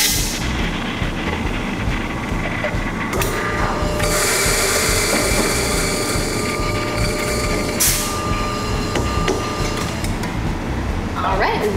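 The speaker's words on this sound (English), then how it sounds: "we're gonna grind our 16 grams of coffee to a medium fine coarse setting" Burr coffee grinder whirring through 16 grams of beans at a medium-fine setting, a loud continuous grind lasting several seconds with a few brief higher-pitched surges.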